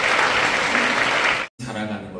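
A church congregation applauds loudly at a catechumen and baptism service, a dense steady roar of clapping that cuts off suddenly and gives way to softer room sound.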